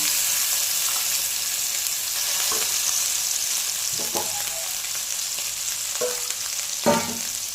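Roasted tadka paste of cumin and coriander sizzles in a hot pan, a constant hissing fry with a few scattered clinks and scrapes, close and without talk.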